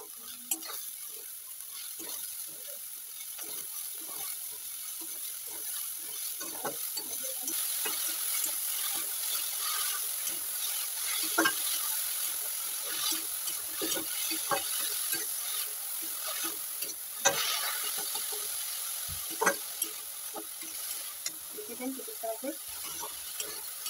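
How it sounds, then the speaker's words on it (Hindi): Sugar, about three handfuls, being fried and stirred in a pan for Indian carrot halwa, giving a steady close sizzle with scattered scraping clicks of a spoon throughout, no talk. "मैं चीनी के साथ फ्राई करूंगी"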